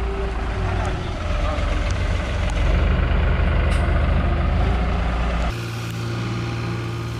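A tractor strains to pull a stuck car out of mud at a campsite, giving a steady loud engine rumble with a shift in tone partway through, while people talk over it.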